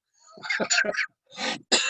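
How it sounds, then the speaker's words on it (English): A few short, harsh coughs and throat-clearing bursts close to the mic, in two quick groups. "No wonder I'm coughing."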